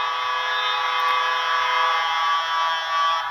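A shot clock buzzer at a women's basketball game between Central Java and West Java at PON XX Papua 2021 sounds the end of the third quarter as one loud, steady, sustained tone.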